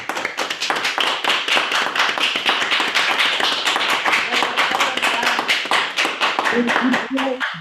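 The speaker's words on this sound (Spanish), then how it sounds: "los que estamos aquí en el set, un aplauso y hasta pronto" Clapping from a small group of people on a studio set at the close of an online conference session, a dense run of sharp hand claps near the microphone, with a voice starting to speak as it ends.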